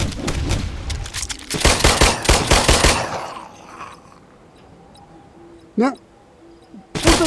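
Gunfire in The Brookhaven VR video game, a dense rapid burst of shots followed by quieter moments and a single later crack, then another burst, loud and close.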